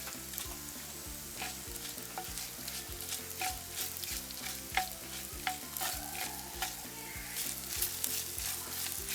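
Fenugreek and drumstick curry fries and sizzles in oil in a Jaffna-style pan, a steady crackling hiss broken by repeated scraping stirs, close up with no voices.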